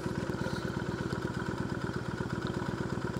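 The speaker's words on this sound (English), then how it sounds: "I'll just leave the bike on." A Kawasaki Vulcan 1600 motorcycle engine idles nearby with a steady, rapid low thumping pulse, continuous and alone.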